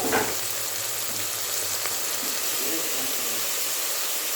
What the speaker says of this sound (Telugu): అల్లం వెల్లుల్లి పేస్ట్ అంత వేగిన తర్వాత వేసుకోవాలి